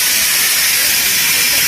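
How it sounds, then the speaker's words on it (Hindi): Indian passenger train's air brakes hissing after the emergency chain was pulled near Rewari, a loud, steady, close rush of escaping air with no break. "किसी ने हमारे डब्बे में से चैन खींच दिए। जो आवाज आ रही है ना आप सुन पा रहे हैं"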